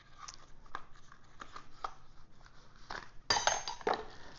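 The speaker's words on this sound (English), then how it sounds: "A little metal spoon, a little stirring spoon, very cool." A small metal stirring spoon from a heated coffee mug and warmer set is handled: light scattered clinks and taps, then a louder cluster of metallic clatter near the end, with no speech.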